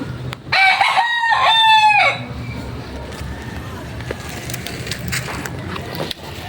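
A rooster crows once, loud and close, in a single drawn-out call lasting about two seconds, followed by quieter outdoor ambience and faint background noise.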